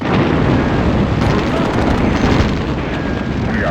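Loud, dense rumbling barrage of explosive booms and bursts from Nebelwerfer rocket artillery in the video game Sudden Strike Forever, continuous and close, with faint voices buried beneath the roar.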